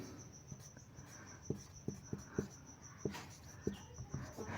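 Chalk writing on a classroom board, a series of faint, irregular taps and scratchy strokes over a steady high insect-like hum in a quiet room.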